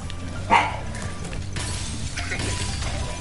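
A house dog indoors lets out one sharp, fairly loud bark early on at its housemates, then only a low steady room hum remains, with no talking.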